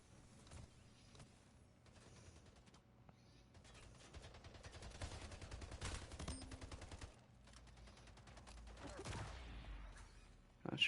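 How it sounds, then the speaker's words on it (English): Assault rifle fire in a video game, faint and distant, scattered bursts and rattling over several seconds amid mechanical clanks, with a sharper burst near the end. "Assault rifle."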